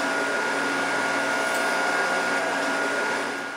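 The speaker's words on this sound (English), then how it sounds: "we're gonna go and we're gonna hit them on this wheel to brighten them" A polishing wheel brightens military medals at a mint, a steady loud motor whine with a grinding hiss that holds constant and tapers slightly at the end, with no talking.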